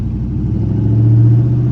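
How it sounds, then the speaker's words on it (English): A car engine rumbles steadily and loud nearby, building slightly as the vehicle goes past, with no voices over it. "We'll stop here after this car is gone"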